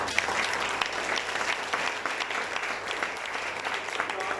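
A church congregation claps and cheers for Jesus, dense sustained applause with scattered whoops that fills the room for several seconds.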